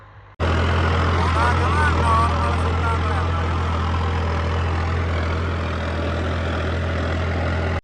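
A New Holland 3630 tractor engine runs at a steady, loud, low drone with a continuous deep hum, while someone talks over it throughout.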